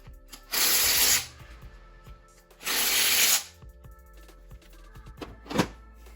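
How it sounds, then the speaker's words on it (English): Power tool driving clutch bolts on a VW GTI during a clutch upgrade: two sustained bursts of roughly half a second each, loud and close, separated by quieter clinks and handling noise, with a short final burst near the end. "Grab the bolts and then drive them in."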